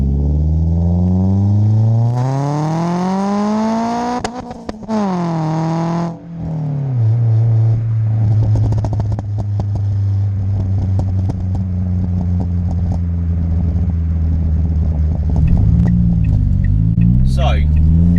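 Ford Fiesta MK6 ST with a Miltec front and centre section and custom back box, engine revving hard through first gear with rising and falling pitch, loud close rumble and crackling pops as the throttle lifts.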